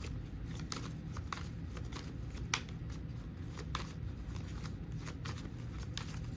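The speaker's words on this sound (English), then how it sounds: "nothing out this deck. I'm just a shuffling." A deck of cards shuffled by hand: repeated soft riffling and flicking bursts with sharper snaps, close and fairly quiet, continuing steadily throughout.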